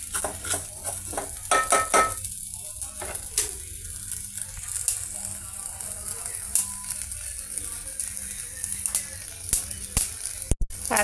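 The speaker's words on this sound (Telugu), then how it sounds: "ఉప్పు బాగా వేడెక్కాక కొద్దిగా శబ్దం వస్తుంది కదండి, ధ్వని" Salt heating in a dry pan gives off a faint, scattered crackle and light popping, with occasional scraping and stirring clatter near the end.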